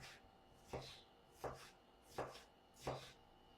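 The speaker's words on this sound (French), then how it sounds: "ici j'ai un demi-poivron rouge. Je vais le couper en lanières puis en petits morceaux" Four evenly spaced knife chops through half a red bell pepper on a cutting board, each a sharp crisp knock with a short ringing tail, close up and alone against a quiet room.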